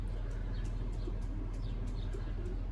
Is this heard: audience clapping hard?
no